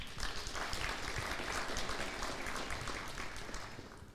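Congregation applauding after a hymn at a church service, a dense, steady wash of many hands clapping that carries on for about four seconds and tapers slightly at the end, with no voices over it.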